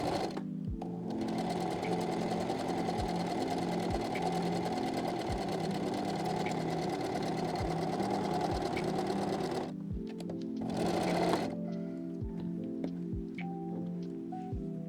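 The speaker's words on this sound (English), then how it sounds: "I'm just going to stitch kind of like the border of it" Sewing machine stitching a decorative border around a fabric pocket cut from an old shirt, a steady close mechanical whirr with rapid needle ticking, pausing briefly near the end before a short burst of stitching resumes.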